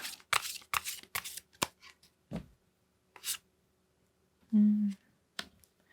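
Tarot cards shuffled and drawn in a series of quick, close riffles and flicks, some pauses between them and a brief low hum near the end, with no talk.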